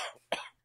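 A single short cough from a podcast host, close and fairly quiet, preceded by a brief breathy throat sound and followed by silence.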